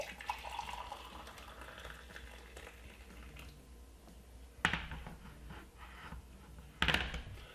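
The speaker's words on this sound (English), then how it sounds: "And I'm going to fill it with some hot water from the kettle." Hot water poured from a kettle into a cup makes a steady, soft liquid trickle that thins out midway, with a couple of sharp clinks from the kettle or cup standing out, close and quiet.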